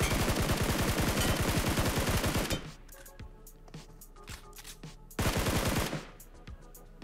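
SCAR rifle fire with a fire hit effect in PUBG Mobile, heard as a loud rapid automatic burst lasting about two and a half seconds, a pause with scattered clinks, then a second shorter burst.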